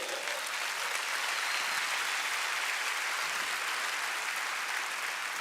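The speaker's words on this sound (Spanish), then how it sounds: "Denle un aplauso a Jesús que no pecó." Congregation at a Casa de Dios church service applauding Jesus, a dense, loud, sustained wash of many hands clapping at once with no talk over it.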